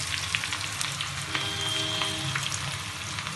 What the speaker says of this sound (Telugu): ఇప్పుడు ఉల్లిగడ్డలు సన్నగా తరిగినాయి అల్ల వేస్తున్నాను ఇవి కూడా మంచిగా కలర్ రావాలి